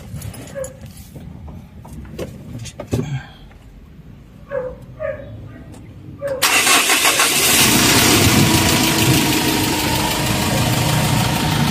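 A car that has been losing power and smoking at the exhaust cranks and starts, then settles into a loud, steady idle that fills the space. Before the start, sparse sounds and a few short voiced bursts are heard in a quiet garage.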